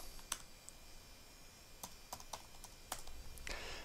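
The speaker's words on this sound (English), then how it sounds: "I type in workbook" Scattered keystrokes on a computer keyboard come in short irregular bursts with pauses between, close and fairly quiet, with no talking.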